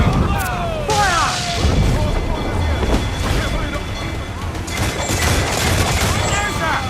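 Ship cannons boom in a naval battle in Assassin's Creed 4 Black Flag, heavy low thuds rolling over constant sea and battle noise while crew voices shout over the action.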